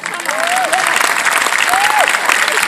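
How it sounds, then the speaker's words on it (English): A graduation audience claps in a loud, continuous burst of applause; a couple of faint whistles rise above it. "I want you to give those people who said you couldn't a round of applause"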